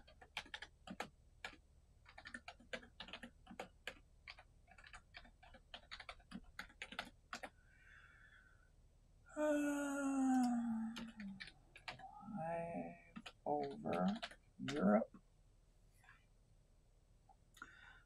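Someone types on a computer keyboard, entering a search on eBay: a quick run of close, crisp key clicks at an uneven pace. The typing then stops and a person speaks.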